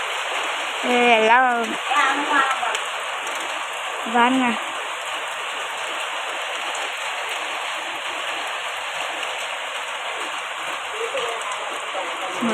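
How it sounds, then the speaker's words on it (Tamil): Heavy rain pours steadily outside a village home in the evening, a dense, continuous hiss throughout, with a person speaking briefly over it near the start. "மழையெல்லாம் கொட்டி கொட்டின்னு கொட்டிக்கிட்டு இருக்கு"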